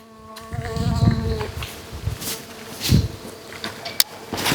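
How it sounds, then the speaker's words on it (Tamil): Native honey bees buzz in a steady drone around a hive on a honey farm, with swells of close wing hum passing by and a sharp knock near the end. "இது நாட்டு தேனீங்க வந்து பழகிட்டு அப்படின்னாக்க தேனீக்கள் வந்து கொட்டாதுங்க"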